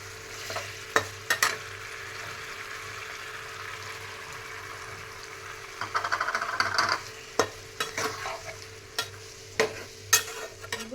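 Spicy chicken chukka is stirred in a pan while it cooks, a soft steady sizzle broken by sharp scraping clinks of the spoon against the pan at irregular intervals, with no talking.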